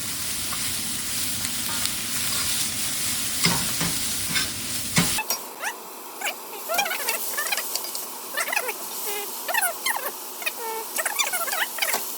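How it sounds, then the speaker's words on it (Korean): A spoon scrapes and stirs Japanese-style curry ingredients frying in a wok, steady sizzling with repeated close clatters and scrapes over about twelve seconds, no speech. "그냥 이렇게 수저로 이렇게 웍을 넣어가면서 볶아주시면 됩니다"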